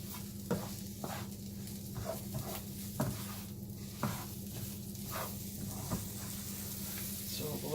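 Pork juices and oil sizzling in a pan for a sauce base, a steady close fry with repeated scraping and stirring clicks about once a second, no talking.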